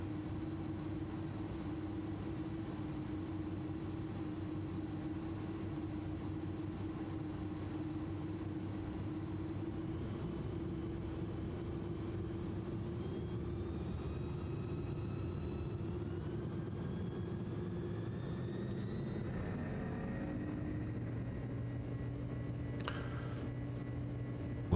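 An Airbus A300-600 jet airliner in Microsoft Flight Simulator runs its engines through a takeoff roll, a steady droning whine and rumble whose tones rise as the engines spool up, continuous and fairly close.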